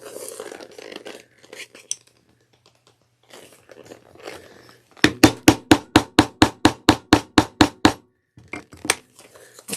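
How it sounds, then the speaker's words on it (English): A 3/8 inch hole punch pressing through satchel material: about a dozen crisp, evenly spaced crunchy punches in quick succession, close and loud, preceded by quieter handling and scraping. "I'm using a 3/8 of an inch hole to press it out, cut it out cleanly."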